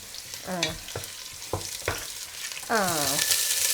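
Sliced onions and beef masala sauté in a pan while being stirred, a continuous bright sizzle with scraping strokes and a few short voiced sounds over it.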